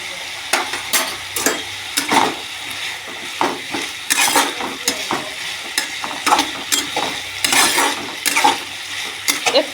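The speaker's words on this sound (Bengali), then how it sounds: "নাড়াচাড়া করে ঢাকা দিয়ে দেবো" Papaya curry fries and sizzles in a pan while a spoon stirs it, scraping and clinking against the metal in frequent irregular strokes, close up and without talk.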